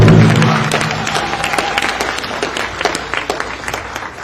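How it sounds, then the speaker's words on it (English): Audience applause at an environmental advocacy teach-in in Rapid City, a dense patter of many hands, loud at first and then easing to a steady scattered clapping as a voice fades out. "if we could have one more round of applause for the Black Hills Alliance"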